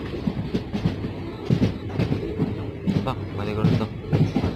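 Machilipatnam Express on the Visakhapatnam to Machilipatnam run, with a steady rumble and rhythmic clatter of the carriages over the rails that continues throughout, while passengers talk loosely in the background.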